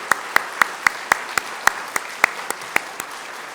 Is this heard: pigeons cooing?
no